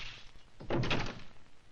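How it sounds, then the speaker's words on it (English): A short cluster of muffled knocks on a door, heard at modest volume against a low background hum, without speech. "You heard my knock?"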